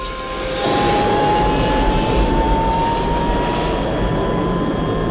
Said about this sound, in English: The sound of the plane, like kind of the same pitch